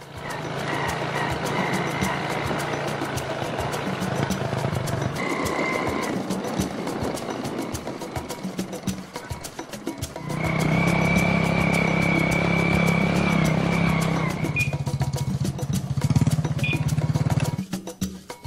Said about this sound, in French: Ensemble avec lui, nous nous dirigeons à moto chez Ntoumwa Ubin Mouyokolo.